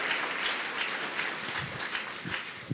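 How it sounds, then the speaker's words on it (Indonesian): Audience at an Indonesian television talk show applauding, a dense, steady wash of clapping from many hands that fills the hall throughout the short stretch. "kita berikan aplaus untuk yang hadir semua"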